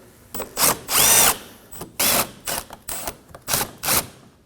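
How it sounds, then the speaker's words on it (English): A power driver with a 10mm socket removes bolts on an Acura MDX, giving several short loud whirring bursts of varying length, close by, with brief gaps between them. "With a 10mm socket, we're going to remove the 2 10mm."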